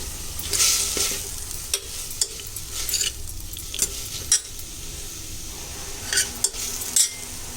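Tomatoes sauté in a pot for one-pot rasam rice, with a continuous sizzle under repeated scraping stirs and occasional clinks of a spoon against the metal.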